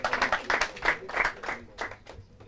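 Brief applause in a Portuguese quiz programme, with a handful of people clapping in an uneven patter that thins out toward the end, fairly soft and without any speech over it.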